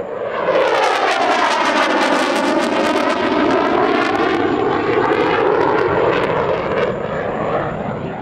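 A Dassault Rafale F3R fighter jet at the Dubai Airshow passes close and loud, its engine roar sweeping in pitch with a strong Doppler shift as it flies by, alone without voices.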